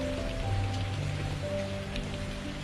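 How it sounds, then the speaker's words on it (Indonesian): Light drizzle falls steadily, a soft continuous patter of rain with no talking over it. "Hujan gerimis turun seperti biasa."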